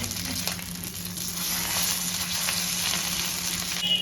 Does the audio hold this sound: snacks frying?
yes